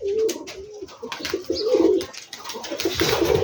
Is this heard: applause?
no